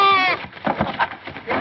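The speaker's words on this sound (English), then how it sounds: "A goat in your mint bed." A goat in a garden mint bed gives a loud, wavering bleat at the start, followed by muffled voices and rustling movement.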